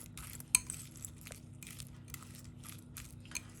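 Banana, rock sugar and honey being mixed for thrimadhuram, a temple offering, with soft, scattered spoon clinks and scrapes against a bowl at low volume, one sharper knock early on.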